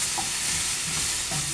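Food sautés in a little oil in a pan, giving a loud, continuous sizzle broken by brief stirring scrapes, close up with no talking.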